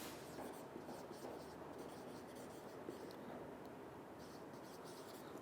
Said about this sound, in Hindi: तो मैं अब लिख दूंगा कि इफ मैटर